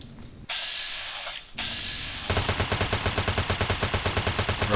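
Rapid automatic gunfire in Fallout: New Vegas, a fast regular burst of loud shots in the second half, preceded by sharper mechanical weapon sounds.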